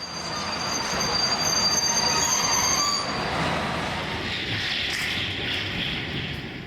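A passenger train hauled by a PKP cargo locomotive rumbles past nearby with a loud, continuous roar, and high metallic wheel squeals ring out over the first half.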